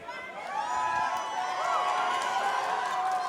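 A live crowd at the MCC Twitch Rivals event in Rotterdam keeps up a steady, sustained roar of cheering and shouting, with a slight swell after the opening moment.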